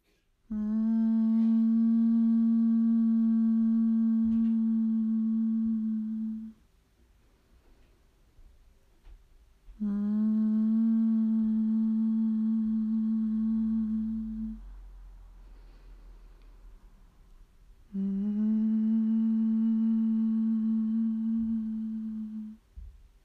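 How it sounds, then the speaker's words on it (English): Three long, steady humming tones from a person practising humming bee breath (bhramari) with fingers pressed into the ears. Each hum lasts several seconds, with quiet breath pauses between them, and no speech is heard. "press your fingers gently into the ears and create the humming sound"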